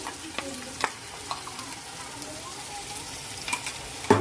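Ginger-garlic paste frying in a pan, giving a faint, steady sizzle with a few soft clinks and scrapes scattered throughout and a louder knock near the end.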